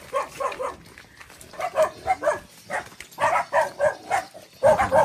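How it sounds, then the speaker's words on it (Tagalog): A dog barks repeatedly in quick, uneven bursts, fairly close, with short pauses between volleys. "May aso pala dito."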